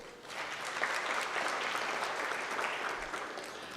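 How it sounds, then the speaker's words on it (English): Audience applause at a report launch event, a fairly soft, steady wash of clapping that swells slightly and holds for several seconds without talk. "give them another round of applause"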